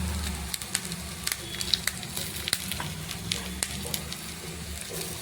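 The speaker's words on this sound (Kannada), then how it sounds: "ಫ್ರೈ ಆಗ್ತಾ ಇದೆ" Cumin, mustard seeds, ginger and garlic fry in hot oil with a steady, close sizzle, scattered with sharp pops and crackles from the seeds.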